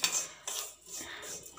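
A spoon scrapes and clinks against a pan while vermicelli fries in ghee, with soft irregular stirring strokes close by and a steady frying hiss underneath.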